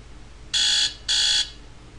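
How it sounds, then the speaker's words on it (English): An Android phone alarm clock ringtone sounds two loud, buzzy electronic tones, each about a third of a second long, separated by a short gap. "Sounds like our alarm clock."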